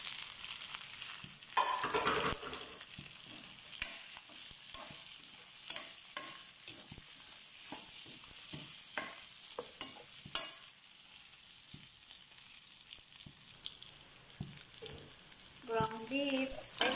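Ground pork frying in a pan, with a steady sizzle running throughout and repeated scraping stir strokes close up. No one talks.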